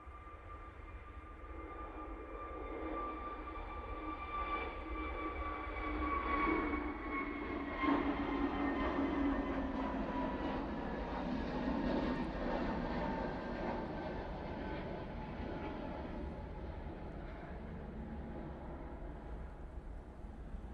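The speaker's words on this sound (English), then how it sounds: "Next, we have the Jet2 A321 Neo going off to Preveza." A Jet2 Airbus A321neo in holiday livery takes off from Manchester Airport, a distant, moderately loud engine roar with whining tones that rises, peaks mid-way and slowly fades, with no voices.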